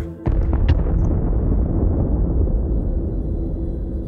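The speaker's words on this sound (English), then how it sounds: "With lightning flashing and thunder cracking, an explosion of light and power radiates across the mountaintop." A booming thunder-and-explosion effect for a fantasy storm giant scene, a sharp crack followed by a long, heavy low rumble that rolls on and slowly fades, loud and alone.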